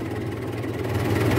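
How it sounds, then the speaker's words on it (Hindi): A 1998 model tractor engine runs at a steady low throb, close and moderately loud, with a rough, even rumble and no talk over it. "तो भाई ये 98 मॉडल ट्रैक्टर है ये"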